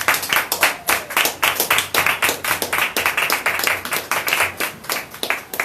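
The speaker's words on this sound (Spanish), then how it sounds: "Vamos a darle un aplauso al Señor." A church congregation clapping for the Lord during a service, loud, distinct, rhythmic claps in a fairly regular beat that carry on for several seconds close by.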